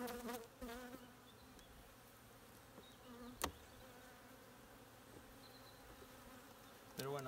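Faint, steady buzzing of bees hums in the background, with a few soft knocks and rustles; no one speaks.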